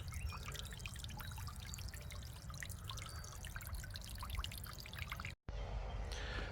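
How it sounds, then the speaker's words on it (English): Water pours steadily into a wildlife pond to aerate it, making a continuous close splashing trickle with small drips. The sound runs alone and unbroken, apart from a brief cut near the end. "I know the water's going directly into the pond and it's still having the same effect that I want of aerating that water"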